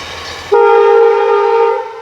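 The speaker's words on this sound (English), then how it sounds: "Ah, there's the train." A short passenger train passes, and its horn sounds suddenly with a loud, sustained tone that holds for over a second before fading slightly. Faint rumble comes before it, with no talking.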